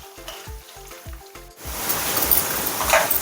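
Mustard seeds and dal frying in oil for raw mango pulihora, with rhythmic metal-on-pan stirring taps at first, then a loud, steady close sizzle with crackles as the mixture settles.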